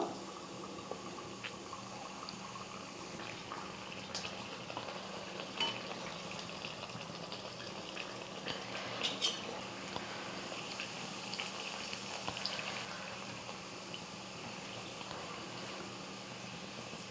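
Pressed vada batter fries in hot oil, producing a low, steady bubbling hiss with scattered soft pops across the whole stretch.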